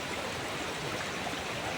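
A stream at an inland resort flows steadily at the low end below the swimming area, a continuous close rush of water with no voices.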